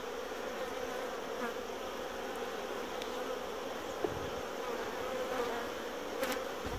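Honeybees, many of them, buzz around a hive as a queen is released from her cage, a steady dense hum with a few brief individual passes, close and continuous.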